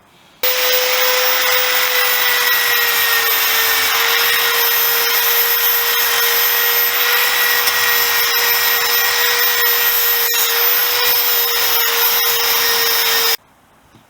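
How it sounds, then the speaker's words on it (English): A power drill fitted with a wire brush spins steadily against a rusty Honda XL250S motorcycle exhaust manifold, one loud continuous whine with scraping, starting and stopping abruptly. "I'm going to use a drill attachment to try and get into some of the nooks and crannies"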